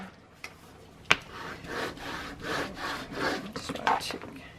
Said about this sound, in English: one last little burnish.